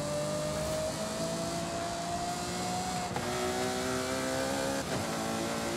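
A high-revving Ferrari V12 engine in Forza Horizon 5 wails steadily with harmonic whine, shifting pitch through gear changes, loud and close, with no voices.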